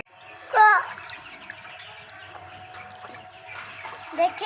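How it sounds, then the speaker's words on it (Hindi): Ducklings swim and splash in water, with light splashes and trickling close by, a louder splash near the start and another near the end, and a faint chirp in between. "डक बेबी पानी देख के बहुत खुश होते हैं"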